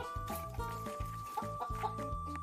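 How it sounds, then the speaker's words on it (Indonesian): In a chicken coop, a rooster's crow rings out among repeated low clucking and grunting from nearby chickens, with a steady electrical hum underneath. "Itu suara ayam jantan."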